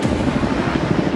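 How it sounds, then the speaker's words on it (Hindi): A helicopter flies over a private island carrying people aloft, its loud, close rotor chop beating rapidly and steadily throughout with heavy engine roar and no speech. "ये हेलीकॉप्टर हमारे बॉयज को ऊपर हवा में ले जाएगा"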